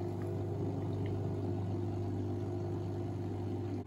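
Water fills a Klarstein mini dishwasher with a steady, even hum and a soft gurgling rush. It sounds close and fairly quiet, with no voices.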